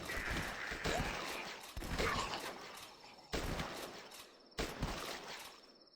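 Loud, abrupt bursts of AK rifle fire from the zombie shooter game The Last Stand, with several separate volleys that each cut off sharply.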